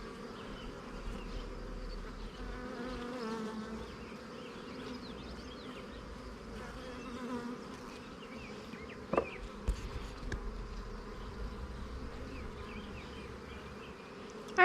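A steady, dense hum of many honeybees buzzing close by inside a hive, continuous and fairly quiet, with a few faint knocks.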